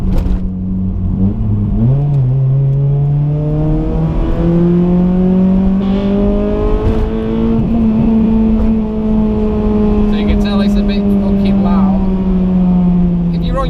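A Honda Civic EP3 Type R with an M2 exhaust drones steadily while cruising, a low, loud engine hum heard from inside, rising slowly through gears and then holding constant, with someone talking over it.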